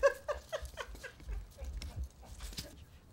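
Soft, high whimpers and little yelps from a French Spaniel puppy come in a quick run, fairly close and quiet, tapering off with faint shuffling.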